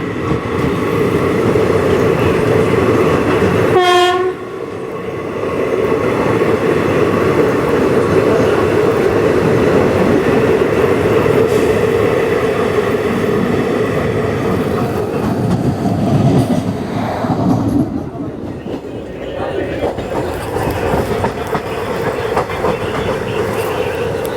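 The Marathwada Express bound for Hyderabad pulls out of Purna Junction, a loud rumble of rolling wheels and rhythmic clatter that continues throughout, with a brief rising horn-like tone early on.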